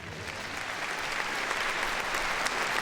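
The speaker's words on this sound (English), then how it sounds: "Let's give these 24 best of breed winners one big round of applause." Audience applause at the Crufts dog show ring, a broad steady roar of clapping from a large arena crowd, building slightly and continuing without speech.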